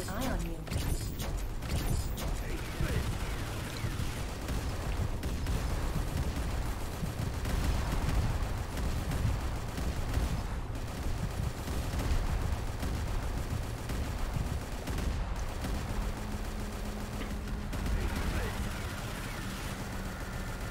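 Sustained gunfire and shotgun blasts in the ANVIL: Vault Breakers video game, dense and continuous with mechanical clatter throughout, loud and near.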